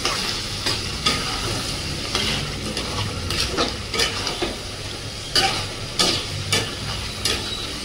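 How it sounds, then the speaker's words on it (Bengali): Ginger, garlic and green chili paste frying in a pan, a steady close sizzle with brief sharp scraping bursts as the spices are stirred, no voices. "আদা রসুন আর কাঁচা লঙ্কা, ওটা দিয়ে দিলাম। এটা দিয়ে কিছুক্ষণ কষাবো।"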